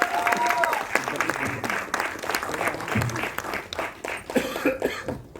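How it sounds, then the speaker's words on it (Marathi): Audience at a Marathi stage event breaks into a burst of applause, dense clapping mixed with a few coughs and crowd noise, with voices talking over it. "एकदा जोरदार टाळ्या झाला पाहिजे"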